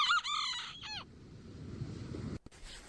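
A chicken on a beach lets out a loud, close burst of rooster-like crowing and clucking for about a second, then only soft ambient noise follows before a brief bump near the end.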